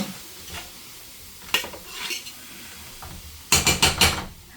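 Sausage is stirred and mixed in a sizzling pan, with scattered scraping strokes of a utensil and a quick cluster of clattering knocks near the end, close by with no talk.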